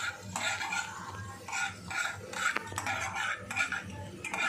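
Black pepper roasts in a pan for okra gojju, with dry scraping and stirring strokes and occasional clinks of a utensil against the pan, repeated in short bursts at moderate volume.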